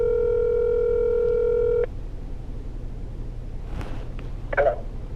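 A steady telephone ringing tone plays for about two seconds while a call is placed, then cuts off into faint room noise with a couple of soft clicks and rustles.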